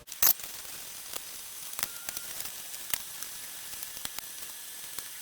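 A powder coating gun driven by compressed air gives a steady close hiss with a sharp burst near the start and faint clicks scattered through, no voices.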